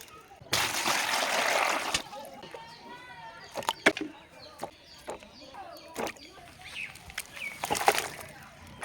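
Muddy potatoes and carrots are washed in water, with a loud splashing rush at the start followed by intermittent dripping, sloshing and clinks, moderately close and with no talk.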